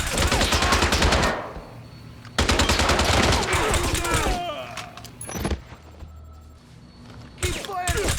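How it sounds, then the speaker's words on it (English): Gunfire in James Bond 007: Blood Stone comes in two loud, rapid automatic bursts, with scattered single shots and clanks after them. Voices in the game talk between the volleys. "Keep firing! Everyone, fire!"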